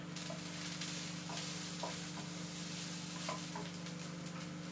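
Corn mince frying in a pan for a ragu, giving a steady, close sizzle with a few faint scrapes and clicks from stirring over a constant low hum.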